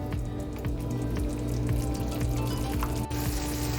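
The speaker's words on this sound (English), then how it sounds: "cover this up and let it fry" Chicken livers and onions frying in a covered pan, a loud steady sizzle with constant crackling and bubbling, close up and unbroken, with no voices.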